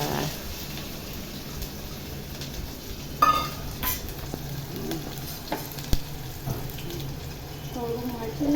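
Onion and green chillies frying in oil with curry leaves, a continuous close sizzle with intermittent stirring clanks of a spoon in the pan, voices faintly present beneath.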